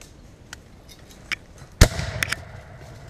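Black-powder gunfire at a Civil War reenactment: one sharp, loud nearby shot with a short echoing tail, plus several fainter distant pops scattered before and after.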